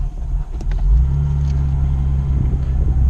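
Nissan Xterra with a VG33 engine and Schneider Racing cams driving, its deep, loud, steady rumble with slight roughness and a few light clicks over the top.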